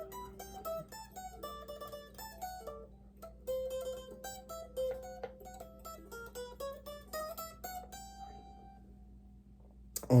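Electric guitar picking a fast, chugging riff in repeated runs of notes, played alone and fairly close with a steady rhythm over about ten seconds.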